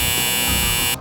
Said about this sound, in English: at any moment, the panelist can tap the buzzer